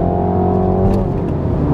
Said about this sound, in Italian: È un motore che spinge veramente forte già da giri bassi.